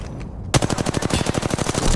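Gunfire in Apex Legends, a loud, fast automatic burst of evenly spaced shots that begins abruptly after a quiet moment and keeps going to the end.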